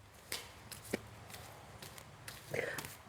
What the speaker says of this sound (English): Let me just do a couple more shuffles here.